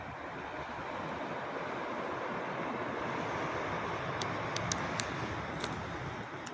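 Surf breaks along the La Gomera coast far below a hillside viewpoint, a steady distant wash of waves mixed with light wind noise and a few faint ticks near the end.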